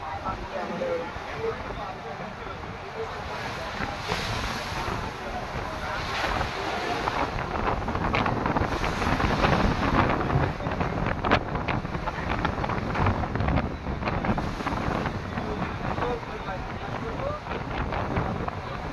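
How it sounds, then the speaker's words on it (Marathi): Continuous wind buffets the microphone over rushing, churning water and waves slapping around a boat rocking on rough water at Gangasagar; the sound swells and eases without a break. "पाण्याचा वेग वाढलेला आहे. बोट वर खाली होते."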